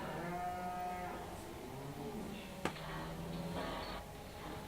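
Cattle in the Farming Simulator 17 game moo in long, drawn-out calls over a steady background, with a sharp click midway and faint game ambience, no voices.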